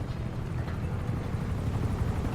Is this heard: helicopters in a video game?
yes